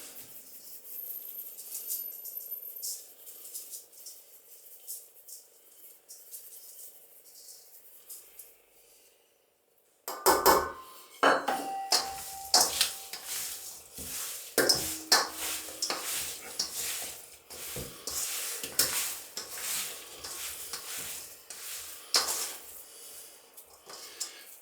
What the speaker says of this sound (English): First we mix the salt and spices.